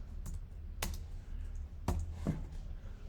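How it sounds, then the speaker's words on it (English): A few scattered keystrokes on a computer keyboard while a formula is entered into a spreadsheet: sharp, close clicks with uneven gaps over a quiet room, with no talking. "I can start typing we are"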